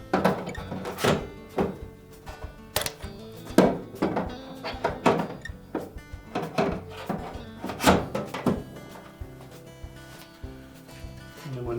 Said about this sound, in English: Press them down until they lock in with the tabs.